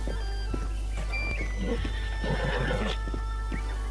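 A horse in Zelda: Breath of the Wild neighs and whinnies clearly over a steady game background hum, with soft hoof clip-clops around it.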